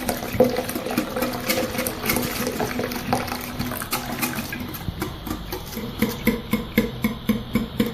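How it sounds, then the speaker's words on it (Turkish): Strained yogurt whisked with water into ayran, a quick, steady, close-up rhythmic clatter of the whisk against the bowl that runs the whole time and picks up toward the end, with no talking. "pürüzsüz bir hal alana kadar güzelce çırptık"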